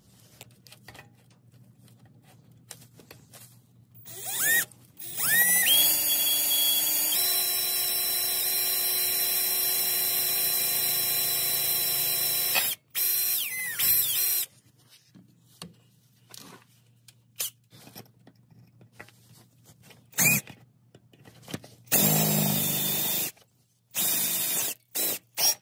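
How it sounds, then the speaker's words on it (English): Power drill with a 1/8 inch bit boring a pilot hole during an EGT probe install on a 6.0 Powerstroke diesel, a steady high whine held for several seconds, then short intermittent bursts of drilling. "we're going to drill a pilot hole"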